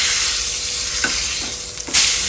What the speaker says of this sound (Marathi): चला, आता आपण पॉपलेट पलटी करून घेऊ.